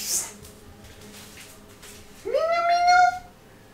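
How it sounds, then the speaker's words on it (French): A cat gives a single clear, drawn-out meow near the end, after a short quiet stretch with faint background noise. "Je t'ai dit, il y a le chat."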